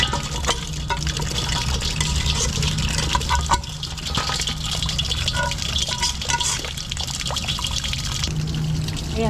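Cooked brains rinsed under a running kitchen tap, a continuous splashing stream of water with gurgling and trickling as the pieces are moved about, close and steady throughout.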